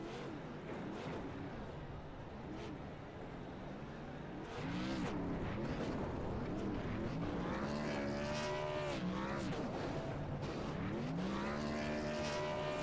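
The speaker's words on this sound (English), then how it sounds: "Got some dual burnouts going on right now." Race cars at an OSCA short-track weekend do dual burnouts, engines revving and wailing in rising and falling sweeps with tire squeal, heard from a distance and growing louder after a quieter start.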